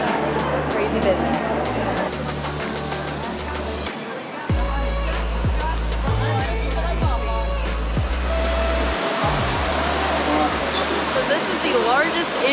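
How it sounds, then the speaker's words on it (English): The world's largest indoor waterfall at Singapore's Changi Jewel airport sends up a constant broad roar of falling water, steady and enveloping, with people talking over it in a busy indoor space. "This is the largest indoor waterfall in the world."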